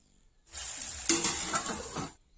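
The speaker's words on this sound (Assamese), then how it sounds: "এয়া মাংস লাহে লাহে ভাজ খাবলৈ গৈ আছে।" Pork sizzles loudly in a pan as it fries slowly, a bright crackling hiss that starts abruptly, swells with a stir partway through, then cuts off about two seconds later.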